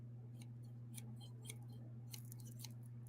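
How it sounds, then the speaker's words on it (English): Sharp leather scissors snip in a steady series of crisp close cuts, about a dozen over a few seconds, above a constant low electrical hum. "These are supposed to be leather scissors."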